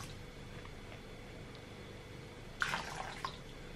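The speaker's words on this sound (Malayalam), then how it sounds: "മുക്കിയിട്ട് നന്നായി പിഴിയുക" A cotton towel soaked in water is wrung out by hand, giving a brief close burst of splashing and dripping near the end after quiet room tone.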